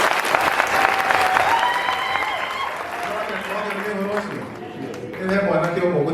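A crowd at an outdoor gathering applauds loudly and steadily, with cheering and ululating voices rising through the clapping. The energy dips slightly near the end before surging again.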